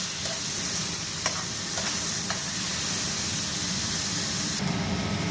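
Three onions frying in oil with fenugreek seeds, a steady close sizzle and hiss with a few stirring scrapes against the pan, no voices.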